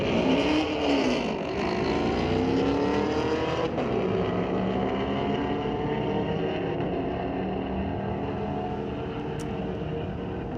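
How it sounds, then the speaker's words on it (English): A 2017 Camaro and a Ford pickup truck launch down a drag strip, their engines roaring loud and close as they rev up through the gears, with a continuous howl that rises and falls across the run. "Chase Grandmore being chased by the Ford pickup truck, but gets there first with a 12:18 in that gorgeous Camaro from 2017"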